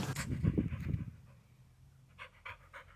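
A dog pants up close with a burst of loud, rapid breaths that fade into softer, intermittent puffs of breath, with no one speaking.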